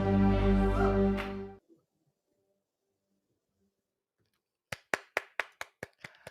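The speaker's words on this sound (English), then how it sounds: "I always feel like I have to clap." A single person claps hands about eight times in a quick, even rhythm, close and crisp, after a stretch of talking and a silent pause.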